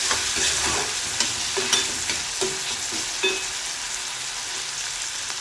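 Chopped onion, green chili and tomato stir-fried in a hot pan for Marathi-style matki fry, with a steady oily sizzle and soft scraping spatula strokes recurring every second or so, close and alone.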